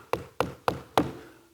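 Someone knocks on a front door: four sharp, evenly spaced raps close by, each quickly fading, with no talk over them.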